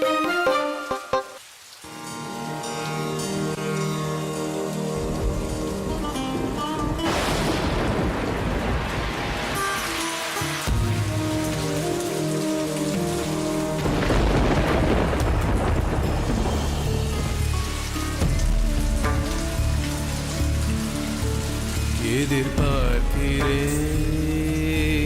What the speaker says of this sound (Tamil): பயங்கர மழையா இருக்கு. மழை இப்போதைக்கு நிக்காது போல.